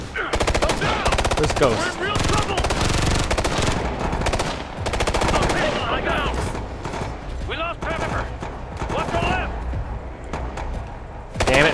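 Gunfire in the Ghost Recon Future Soldier video game, dense bursts of automatic weapons and repeated shots crackling almost nonstop, with squad voices calling out over the shooting.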